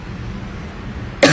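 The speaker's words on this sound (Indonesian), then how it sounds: "Sampai batuk gue." A person gives a single sharp, loud cough near the end after a stretch of low background hum.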